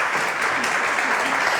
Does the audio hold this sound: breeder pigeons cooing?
no